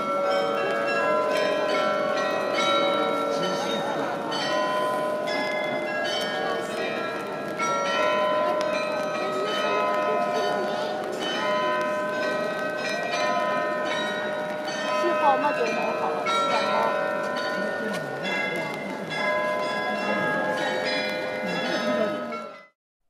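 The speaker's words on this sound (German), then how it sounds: "Das Glockenspiel." The Munich Glockenspiel chimes a long, continuous melody of ringing bells in the city square, sustained and resonant, with crowd murmur faintly underneath before it stops abruptly.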